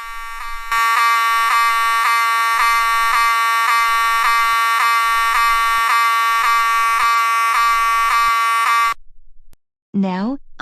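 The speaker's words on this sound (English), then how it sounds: "Alright, that is the fire alarm." A school fire alarm in an animated cartoon rings loudly as a steady, rapid electronic bell for about eight seconds, then cuts off, followed by a brief voice.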